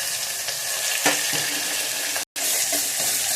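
Finely chopped onion fries in hot oil with mustard seeds, cumin and curry leaves, a steady close sizzle with a few stirring scrapes and a brief dropout near the end.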